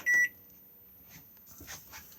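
The control panel of a microwave oven in an Adria Severn caravan gives one short, high electronic beep. After it come faint soft clicks and handling noises in a quiet room.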